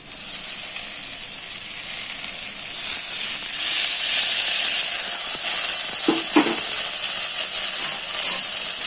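Sago sizzles and fries in a hot pan for sago pulao, a steady loud hiss with a few stirring clatters near the end.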